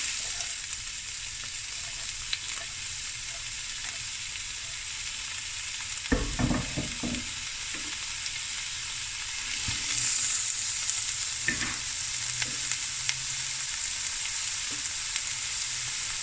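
Two large onions fry in oil in a pot for a lamb and potato bredie, giving a steady, even sizzle throughout with a couple of brief clattering stirs partway through.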